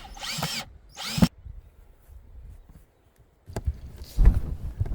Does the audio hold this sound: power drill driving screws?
yes